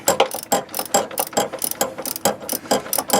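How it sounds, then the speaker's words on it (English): A ratchet wrench works a stuck bolt during valve cover gasket replacement on a 2011 Nissan Altima 2.5 SL, giving rapid, rhythmic clicking bursts repeated every third of a second or so, close and loud, with no talk. "First half hour of the video is going to be me trying to get a bolt out"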